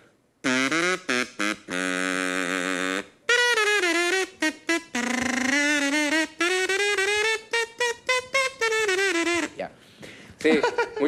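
A buzzy, reedy tone from a homemade kazoo of cardboard tube, rubber band and plastic, played in a string of short and sustained notes with shifting pitch, loud and close, with no talking.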